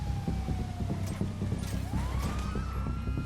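A police car siren wails in GTA V, its tone sweeping down then rising again over busy in-game noise that includes rhythmic clopping thuds.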